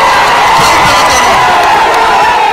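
A large crowd at a BRS political rally in Telangana cheers and shouts continuously, a loud, dense roar of voices that stays level throughout.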